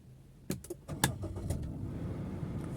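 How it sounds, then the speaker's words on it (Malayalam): A Maruti Suzuki Ciaz automatic cranks and starts after a few clicks and clunks, the engine then settling into a low, steady idle inside the car, no talking. "വാഹനം സ്റ്റാർട്ടായിട്ടുണ്ട്"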